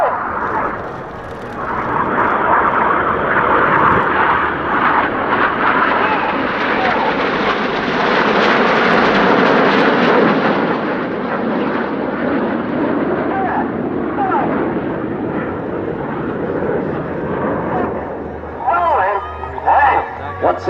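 Red Arrows jets fly a display at Leeuwarden, and a loud, broad jet roar swells and sweeps past, peaks mid-way, then slowly fades. A commentator talks over the engine noise.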